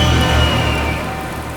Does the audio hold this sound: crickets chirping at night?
no